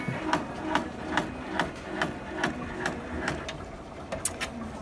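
A Brother PR1050X 10-needle embroidery machine stitches a keychain design, a rapid, steady mechanical tapping of evenly spaced needle strokes at moderate volume with no other sounds.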